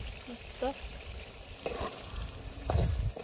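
Onion frying in a pan for a homemade fish curry, a soft, low sizzle with faint stirring knocks while voices talk over it.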